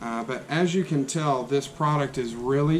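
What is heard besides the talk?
None of the usual background noises is heard.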